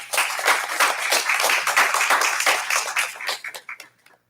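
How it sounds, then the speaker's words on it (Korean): A church congregation claps to welcome a visiting missionary, a dense steady patter of many hands lasting several seconds before thinning out into a few scattered claps at the end. "우리 박수로 환영하겠습니다"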